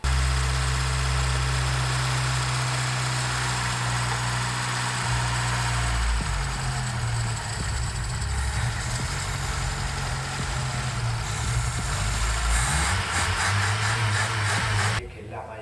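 A flooded Ford Sierra engine idles roughly, mostly running on three cylinders, with a steady low rumble and uneven shifts in its beat, close and loud throughout, ending abruptly.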